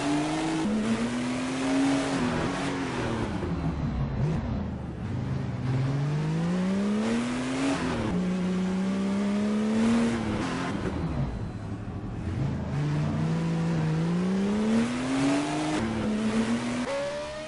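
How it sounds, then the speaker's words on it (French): A Porsche 935 Group 5 race car engine roars and revs up repeatedly, pitch climbing with each gear then dropping on the shift, loud and continuous throughout. "la belle perf de Sébastien Gamrassi avec sa splendide Porsche 935, je n'en dis pas plus, écoutez."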